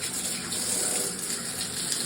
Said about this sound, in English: When you use the shower, plenty of the walls get wet.